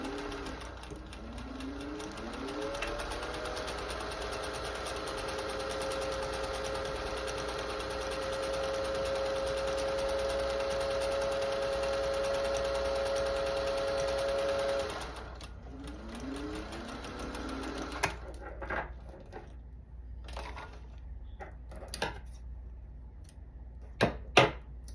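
Vintage Singer 201 sewing machine stitching down a sleeve band seam, a long steady motor hum with a faint whine, then stopping, followed by scattered light clicks and fabric handling.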